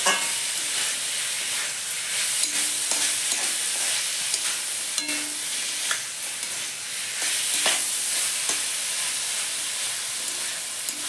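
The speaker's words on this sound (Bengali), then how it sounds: "মশলার সাথে আলু আর মাশরুমটা ভালো করে কষাবো" Potatoes and mushrooms stir-frying with spices, a steady close sizzle and hiss with frequent scraping and clattering of a spatula across the pan, continuous and without speech.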